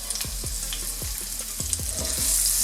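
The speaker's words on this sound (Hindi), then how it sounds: "प्याज को हल्का सा फ्राई होने देंगे।" Finely chopped medium onion fries in hot oil, a steady close sizzle broken by several scraping knocks of a spoon stirring against the pan, with the hiss swelling toward the end.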